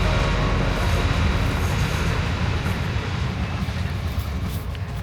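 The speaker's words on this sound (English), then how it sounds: "The train is going past again" A train passing along a suburban Melbourne rail line near a house, a loud sustained rumble and rush that fades slightly toward the end, with no voices.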